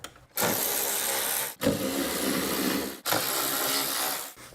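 A hand ratchet runs 10 mm bolts back into the relay box of a 2004-2009 Toyota Prius, giving three close, steady bursts of clicking separated by brief pauses, with no talk.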